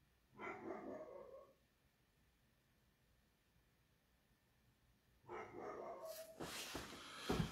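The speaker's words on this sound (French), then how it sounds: "il y a mon chien qui aboie là" A dog barks in two separate bursts, near and fairly loud, with a quiet gap between them and some rustling noise at the end.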